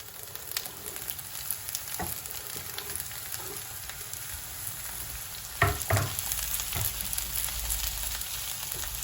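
Fennel frying with sautéed onions in olive oil, a steady broadband sizzle throughout with a few sharper crackles and utensil clicks near the middle, moderately loud and with no one speaking.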